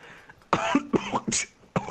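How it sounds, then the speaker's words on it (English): A person coughs in several harsh, close bursts separated by short pauses, with a throaty, rasping quality and no other talk over it. "My cough is really bad."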